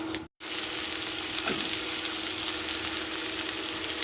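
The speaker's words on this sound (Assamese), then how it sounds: "এয়া তেলতে দি দিছোঁ মই গোটা জিৰা অকণমান, ক'লা জিৰা আৰু মেথি গুটি আৰু শুকান জলকীয়া এটা" Whole cumin, black cumin, fenugreek seeds and a dried red chilli sizzle steadily in hot oil, a constant close crackling hiss with a brief dropout near the start.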